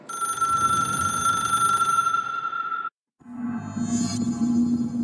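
In the video game Control, the hotline telephone rings with a sustained electronic tone that cuts out briefly, then returns lower and buzzier with a faint shimmer, loud and close.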